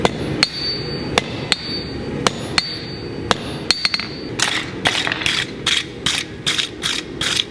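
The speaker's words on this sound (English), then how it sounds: "come in from the backside and rivet that over" Sharp metallic hammer blows peen over a steel rivet on handmade bolt jaw tongs, spaced strikes at first, then a quicker run of ringing hits near the end, close and loud with no talk.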